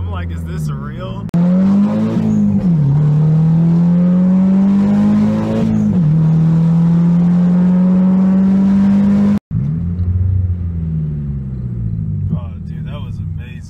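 Loud, close engine of an SR20-swapped Nissan S13 240SX revving hard through a drift, a strained high drone rising and dipping with throttle, with a brief cut near the end before the engine note returns as it settles.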